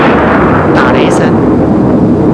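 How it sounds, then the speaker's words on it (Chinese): A thunder effect played from a KSS FX5 live-streaming sound effects unit: a loud, continuous rumbling roar with a brief brighter crackle near the middle. "打雷声"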